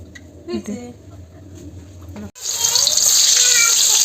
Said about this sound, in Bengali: তবে জল দিয়ে দিলাম একবার ধুয়ে দে একবার ধুয়ে দে